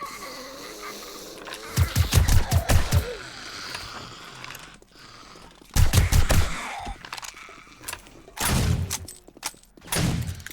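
Rapid bursts of gunfire in the zombie survival game 7 Days To Die, played on a Rise modpack server: several loud clusters of quick shots separated by quieter stretches, with no talk.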